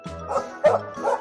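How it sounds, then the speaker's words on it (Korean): A dog barks three times in quick succession, short yappy woofs separated by brief pauses, with no talking. "밖에서 멍멍 개가 짖는 소리."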